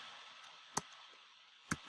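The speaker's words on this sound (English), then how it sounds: "I'm not typing very well here." Computer keyboard taps sound as a few sharp, sparse clicks, one alone and then two close together, faint against a quiet room.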